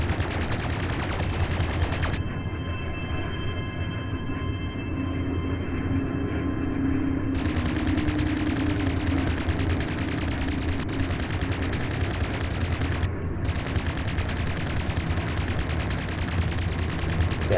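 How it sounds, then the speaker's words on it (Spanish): Spaceship cannons fire in Strike Suit Zero, a steady rapid stream of shots over a constant engine rumble, loud and close throughout with brief breaks in the burst. "Bring your reticule in line with the target and fire your cannons."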